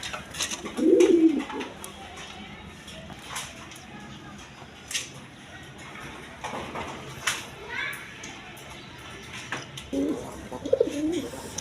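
Pigeons coo softly in short bursts, one near the start and another later, while children play and chatter in the background.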